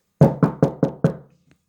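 Five evenly spaced knocks on a wooden door, close and crisp, each fading quickly, with no other sound around them.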